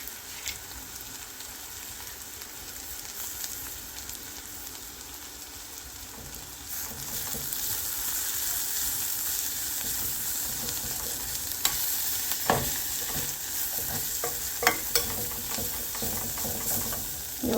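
A spoon stirs a beans and double beans palya with coconut, rasam powder and coriander in a frying pan. It scrapes and clacks against the pan under a steady sizzle, with sharper clinks near the end.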